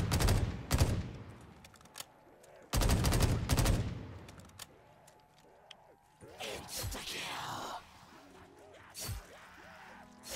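Gunfire in Call of Duty Black Ops 3 custom zombies, loud bursts of rapid shots separated by quieter gaps, with a voice talking in between.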